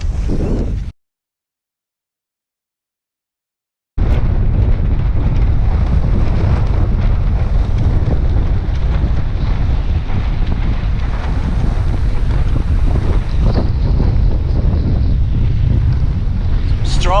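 Strong wind off the mountains of the Alaska Peninsula roars and buffets the microphone in heavy, sustained gusts, breaking off briefly near the start before returning at full force.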